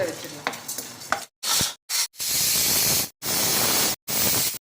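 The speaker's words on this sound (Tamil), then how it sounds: "சிம்மில் தான் வறுக்கணுங்க சிம்மில் தான் வச்சுருக்கேன் நான் சிம்மிலே நம்ம வறுக்கலாம்" Chettinad masala spices dry-roasting on a low flame, stirred in bursts of dense rustling scrape and hiss broken by short silent gaps, with a few clicks and light clatter at the start.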